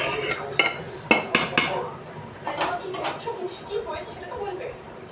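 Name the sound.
stirring rice in a pot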